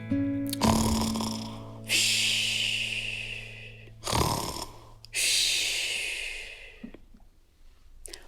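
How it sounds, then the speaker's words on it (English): A sleeping hare in a fairy tale snores in slow, loud cycles of rasping inhales and breathy exhales, about four drawn-out breaths in sequence with a low hum beneath the first. "Eventually, he nodded off and began to snore."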